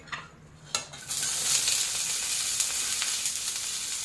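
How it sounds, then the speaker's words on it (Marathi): Broccoli roasting in oil in a pan over low heat, a steady soft sizzle that starts after a couple of brief clinks and continues close and even, no voices. "त्यात आपण ब्रोकोली फक्त आपल्याला भाजून घ्यायची आहे."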